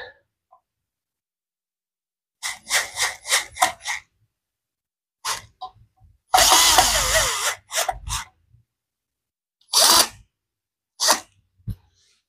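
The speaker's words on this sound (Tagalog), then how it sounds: "pilitan po natin ng drill para bilis po tayo ng konti" A power drill run in short bursts to speed up the job, with several quick pulses followed by a longer, loud whirring run and a few more brief spurts, close by with no talking.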